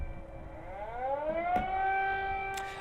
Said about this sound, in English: There are sirens going off in Kyiv right now.